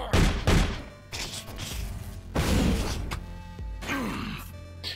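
Heavy shotgun blasts from the video game SOTS: The Pit boom out at irregular intervals, loud and close, each with a thudding low-end tail, with some grunting mixed between shots.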